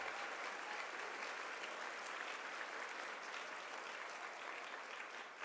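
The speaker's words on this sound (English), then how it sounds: "Give them a big round of applause for all that they've done" Dense, sustained applause from a large conference audience honoring a team's work, even and continuous clapping filling the room at moderate distance without speech.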